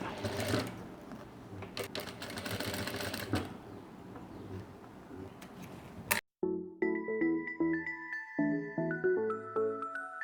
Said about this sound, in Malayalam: ഈ തയ്യൽ തുമ്പിലേക്ക് വെച്ചിട്ട് ഇതിനരികിൽ കൂടി സ്റ്റിച്ച് ചെയ്തെടുക്കാം.